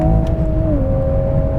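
A Toyota Supra A90 Final Edition on wide Michelin tires drives fast with a loud, steady engine drone heard from the cabin, its pitch easing slightly downward partway through.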